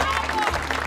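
A crowd applauds a mayoral candidate, Menekşe Erten, at a campaign event in a TV drama: a brief, dense patter of many hands clapping, blended with crowd murmur and voices.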